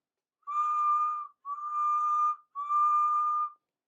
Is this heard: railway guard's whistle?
yes